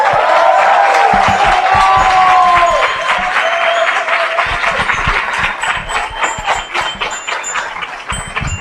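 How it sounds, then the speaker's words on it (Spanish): A large crowd at a political rally greets senator and presidential precandidate Gustavo Petro with loud, sustained applause and cheering, tones and whistles rising early before the clapping turns choppier and thins toward the end. "recibamos con un fuerte aplauso a nuestro precandidato y senador Gustavo Petro"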